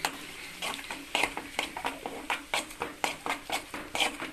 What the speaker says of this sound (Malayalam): അതൊന്ന് ക്രഷ് ചെയ്തിട്ട് ഈ ചൂടായ എണ്ണയിലേക്കൊന്ന് ഇട്ട് ചൂടാക്കാം